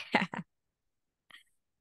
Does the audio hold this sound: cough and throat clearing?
yes